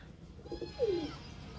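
A single pigeon gives one short, soft coo, fairly quiet against a faint background hum.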